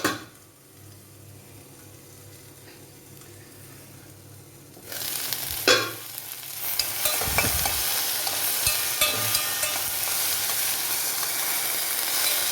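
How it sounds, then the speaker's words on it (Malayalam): Steady sizzling of okra and carrots frying in a pan, quieter at first and then louder and brighter, with occasional stirring scrapes and pops. "വെള്ളം പൊട്ടൽ കുറവ് ഒന്ന് കുറഞ്ഞിട്ടുണ്ട് തീ കുറച്ച് വെച്ചു"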